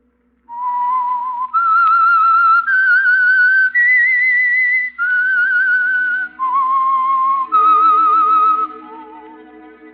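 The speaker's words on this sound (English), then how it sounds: "That whistle is your signal for the Signal Oil program, The Whistler." A lone whistled melody, the theme signal of The Whistler radio program, a loud, clear tune of about eight sustained notes rising and falling, with faint orchestral music entering beneath toward the end.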